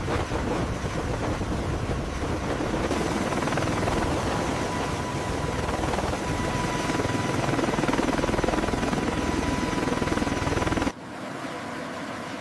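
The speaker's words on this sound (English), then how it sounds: "The V-22 lifts off the ground in open air, hovering steadily above the runway." A V-22 Osprey tiltrotor aircraft lifting off and hovering over a runway, a loud, steady, close rotor roar that holds unbroken before dropping off sharply near the end.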